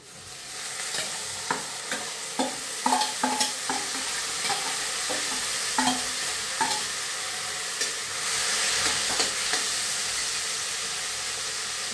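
Cooked moth beans being stirred into frying onions in a pan, giving a steady sizzle broken by a series of sharp scraping clicks from the spoon, close up with no talking.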